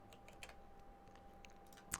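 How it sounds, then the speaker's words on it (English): Fingers tap away at a computer keyboard in a quiet room, producing soft, irregular clicks at an uneven pace with a slightly sharper keystroke near the end. "So I'm not the greatest typer in the world."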